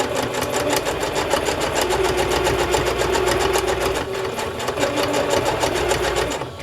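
A sewing machine stitches a fabric journal cover at a steady pace, its motor whirring and the needle tapping rapidly and evenly, close and loud.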